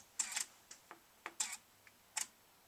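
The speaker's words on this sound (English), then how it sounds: "Now we take the next picture" Camera shutter clicks for stop-motion animation frames, several small sharp mechanical ticks and clacks in quick clusters, close but faint in a quiet room.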